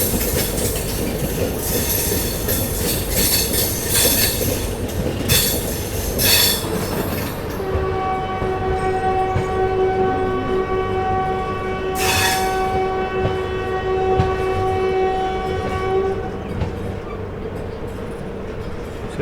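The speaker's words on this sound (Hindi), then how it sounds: "गोरखपुर में अपना अराइवल होता हुआ अपनी फाइनल डेस्टिनेशन पहुँचती हुई अपनी गोरखधाम सुपरफास्ट एक्सप्रेस" The Gorakhdham Superfast Express rolls into Gorakhpur station at the end of its run from New Delhi, coaches rumbling past and wheels squealing, then a long steady horn blast sounds clearly before trailing off.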